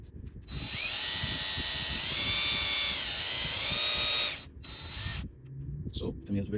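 A rotary tool sands a Glock 17L pistol part with a loud, steady high-pitched whine that dips briefly, cuts out, then starts again before stopping, leaving quiet handling noises.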